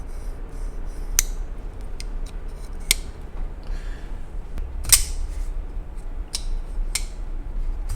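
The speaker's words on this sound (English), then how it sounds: "It almost feels like the bearings, even though they came pre-oiled from the factory, might have a little debris inside" Kansept ODD 21 folding knife with a mirror DLC finish, its pre-oiled bearing action giving off sparse, faint ticks and gritty clicks, up close over a quiet hiss, with no talking.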